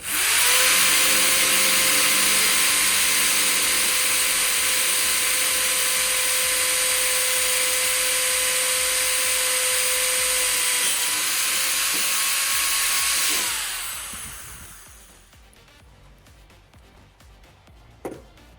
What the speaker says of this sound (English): I'm gonna drill another hole for you guys